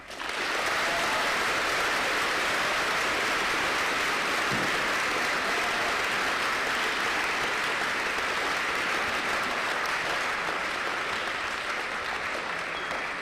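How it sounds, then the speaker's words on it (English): A school audience at an aviation academy in Grand Rapids, Michigan, gives a long, loud round of applause: a steady, dense roar of many hands clapping that holds for the full stretch. "That's a massive round of applause."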